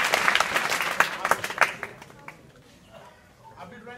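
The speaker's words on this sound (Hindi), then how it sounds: "वेरी गुड, इनके लिए ताली बजाएं।" Students at an inter college in Ora, Azamgarh applaud, a burst of quick scattered claps that fades out within a couple of seconds, followed by faint talking.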